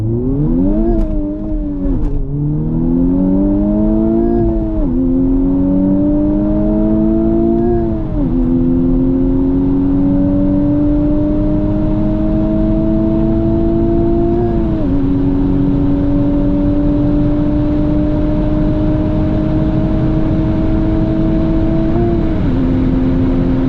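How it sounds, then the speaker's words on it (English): A Honda Civic Type R launches from a standstill and accelerates hard, the engine rising through several gears with clear drops at each shift, loud and close from inside the car with no talking. "I'm just gonna baby to launch. Hopefully I don't spin tires too much"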